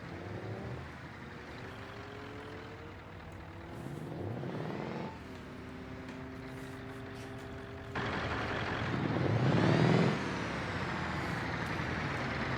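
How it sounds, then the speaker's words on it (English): A V8 engine runs with a deep, bassy exhaust note heard up close, the revs rising and falling in several surges before a louder, rougher burst near the end. "Wait until we get into the V8s. This is the V8."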